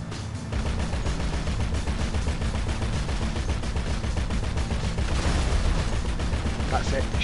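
Gunfire in GTA Online during a heist, dense rapid shots that run continuously for several seconds, loud and sustained, with chatter underneath.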